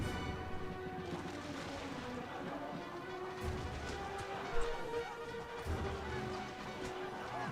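Massed musket volleys as two infantry lines open fire in a Total War battle between Mexican and French armies, a dense, continuous crackle of distant shots with scattered louder reports.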